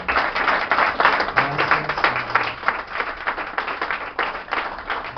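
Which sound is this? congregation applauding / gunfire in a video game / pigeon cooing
congregation applauding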